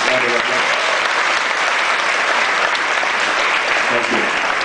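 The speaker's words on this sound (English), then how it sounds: "Can we give him a round of applause?" Loud, sustained applause from an audience at a corporate business gathering, dense clapping filling the room steadily throughout with no break.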